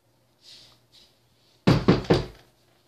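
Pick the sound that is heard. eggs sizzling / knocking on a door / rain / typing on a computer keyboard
knocking on a door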